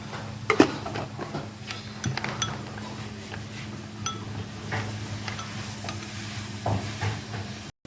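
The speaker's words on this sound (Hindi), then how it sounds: "इसको अच्छी तरह मिक्स कर देना है।" Ingredients for Thai pad noodles, seasoned with black pepper and brown sugar, stirred in a pan with a gentle sizzle underneath, with scattered clinks and scrapes of the utensil, close and steady.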